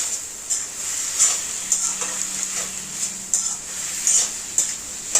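Tomato chutney ingredients sauté in a pan, with a soft sizzle and light scraping stirs that come as regular strokes, near and clear, with no talking.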